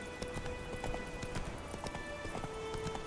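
Horse hooves gallop in The Witcher 3, quick rhythmic clip-clop beats over a soft background hum, fairly faint and steady throughout.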